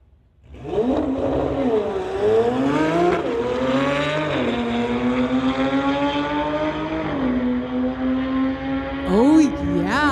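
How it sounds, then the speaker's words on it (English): A 2018 Porsche 911 Turbo and a 2008 Mustang drag racing at a street-legal event, engines rising loudly through several gear changes in long climbing sweeps, with a commentator's voice underneath. "Anthony Baselli from Coquitlam in that 2018 Porsche 911 Turbo going against Don Iusogi in the 2008 Mustang"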